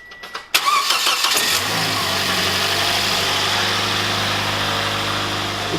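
A car engine in a home garage cranks with a few quick clicks, catches with a loud burst, and settles into a steady, close idle that hums on continuously.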